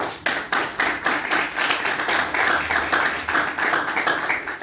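Loud, sustained applause from an audience gathered for a Christmas church service, a dense wash of many hands clapping together with some rhythmic pulsing, close and filling the room.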